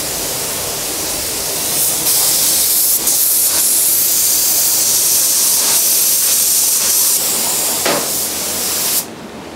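A paint spray gun lays a coat of yellow paint onto a Mitsubishi Evo 8 body during a rebuild, a loud continuous hiss held close with brief trigger pauses, cutting off sharply near the end.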